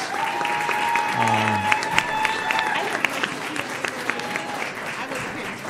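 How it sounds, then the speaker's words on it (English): An audience at a school district governing board meeting gives a steady round of applause that fills the room from start to finish, with a few faint tonal squeaks and whistle-like notes over the clapping. "Please join me in giving a round of applause."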